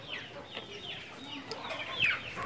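Aseel roosters and hens cluck in a farmyard after rain, a busy overlapping run of short clucks and calls at moderate distance with no talk.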